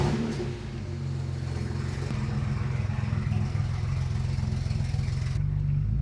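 A BMW 335i with the N54 engine, fitted with used injectors and smoking, runs steadily with a low, throbbing drone that swells slightly as it pulls away, loud and continuous throughout.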